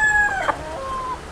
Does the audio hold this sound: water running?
no